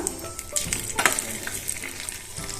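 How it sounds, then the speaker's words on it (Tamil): Red poha health-mix porridge being stirred in a pan, a steady scraping and bubbling sizzle with a few sharper spoon scrapes, close and continuous with no voices. "நல்லா மிக்ஸ் பண்ணி விட்டுக்கோங்க"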